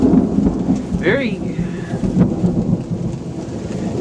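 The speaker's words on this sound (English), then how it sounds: "Up here, there's better views of lightning. This is really intense." Rain pours steadily while thunder rumbles underneath, with a brief higher tonal sweep partway through.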